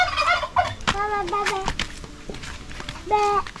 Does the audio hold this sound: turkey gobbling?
yes